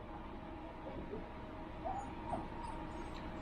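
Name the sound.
puppies whimpering and yipping excitedly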